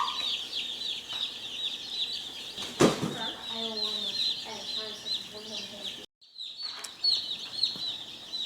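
Cornish Cross meat chicks in a brooder cheeping and peeping steadily, with a brief flutter of wings and a sudden clatter, while a person talks nearby.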